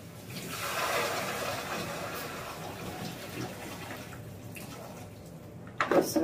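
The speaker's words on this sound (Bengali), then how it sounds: "জলটা দিয়ে দেবো, গরম জল" Hot water poured from a kettle into a cooking pot of chicken curry, a steady broadband gushing pour that swells early, then continues evenly before ending in a few clattering knocks.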